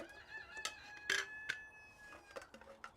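Chickens and a rooster on a small farm property with a blacksmith shop, turkeys and other animals nearby: a rooster crows loudly at mid-distance amid scattered clucks and short calls, with no talking.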